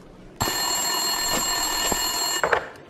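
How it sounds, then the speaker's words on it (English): A desk telephone in the Max Payne 2 video game rings in one continuous electronic trill of about two seconds, loud and close, then cuts off with a couple of faint clicks. "Winterson's phone was ringing."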